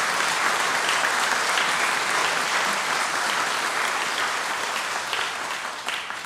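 A church congregation applauding during a Sunday worship service, a loud, steady wash of many hands clapping together that gradually fades toward the end.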